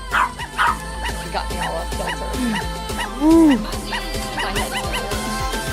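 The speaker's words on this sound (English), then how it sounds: "Is that the dog noise?" A dog barks and yips repeatedly, some barks rising into a higher whine, with a rhythmic pulsing beat underneath, while a person talks over it.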